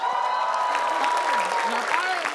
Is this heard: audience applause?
yes